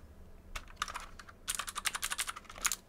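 Fast typing on a V80 mechanical keyboard with Cherry MX Clear switches, with crisp, loud key clacks in quick irregular bursts, sparse at first and then dense and rhythmic, close up and alone.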